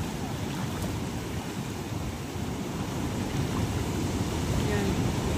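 Steady broadband roar of sea waves building and breaking on a littered beach, continuous and fairly loud, with surf wash filling the whole span and no clear speech.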